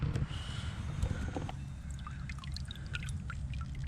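A giant diamondback snake is dipped into water from a kayak, making soft sloshing and trickling splashes with small drips close by, against a low rumble of outdoor background noise and no talking.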